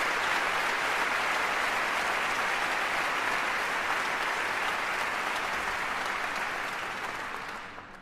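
Audience applause at the opening ceremony of the Leipzig Book Fair: dense, sustained clapping from a large hall crowd, even and loud for several seconds before tapering off at the end.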